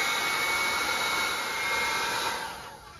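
A Smittybuilt 2781 air compressor runs with a loud, steady whining hum close by, then begins to wind down near the end.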